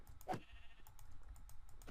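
A single brief bleat from a sheep in Minecraft comes through faintly, with soft computer keyboard clicks tapping in the background.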